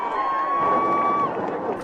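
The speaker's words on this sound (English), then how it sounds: "Ulverstone fans, something to cheer about" Ulverstone football fans cheer a goal at Valley Road during an under-20 Statewide Cup final against South Hobart, a steady, loud crowd roar with a commentator's voice over it.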